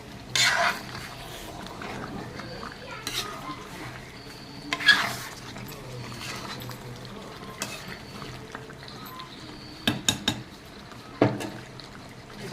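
Curry being sautéed and reduced in a covered pan, with soft stirring and scraping, occasional clinks of a lid or utensil against the pan, and a low background hum, with no talking.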